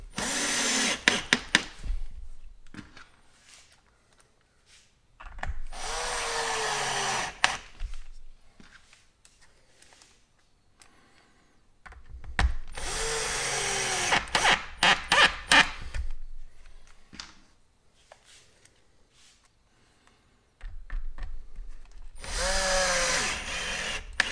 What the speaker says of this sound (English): we'll go ahead and put these stainless steel screws in